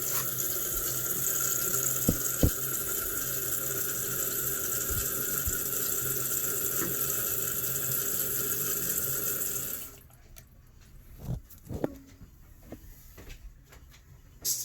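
Toilet tank refilling through a newly installed fill valve after a flush, a steady close hiss of rushing water for about ten seconds that cuts off, followed by a few faint clicks and knocks.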